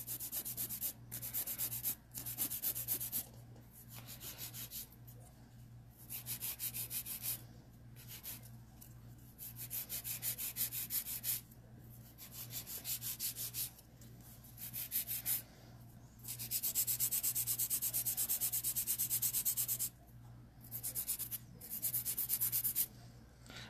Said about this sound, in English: the great thing about filing with the Fantastic File is that because it is metal, I think you file faster